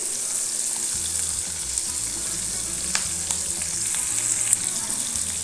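Green chillies and spices sizzle and crackle steadily in a hot pan with oil, with occasional stirring scrapes, close and continuous, no talking.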